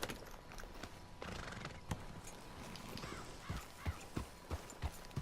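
A horse in the Western video game Red Dead Redemption 2 clip-clops along with steady hoofbeats under an outdoor ambience and lets out a whinny, with no voices over it.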